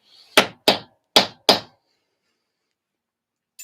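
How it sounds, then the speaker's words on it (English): Four sharp metal hammer strikes on a tool punching flower designs into a granite slab, loud and close in an uneven rhythm, then silence. "So you hammer them in like that."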